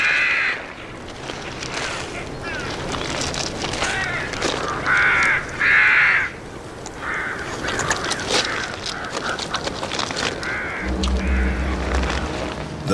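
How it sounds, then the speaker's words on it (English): Hooded crows caw in repeated harsh bursts, some loud and close, against a steady background murmur, with a low rumble entering near the end. "The hooded crows are hungry too, but they'll have to wait their turn."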